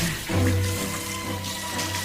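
Water sprayed from a hose onto elderly people gives a steady, close, broadband rush with a low hum underneath, lasting the full two seconds without a break.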